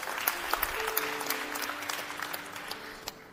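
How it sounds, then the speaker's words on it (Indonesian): A church congregation breaks into applause, a dense patter of many hands clapping at a steady level before thinning slightly toward the end, heard from within the room. "Tepuk tangan saudara"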